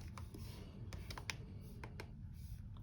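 Light clicks of typing on a computer keyboard, a scattered run of soft individual keystrokes over a low steady hum, fairly faint and close.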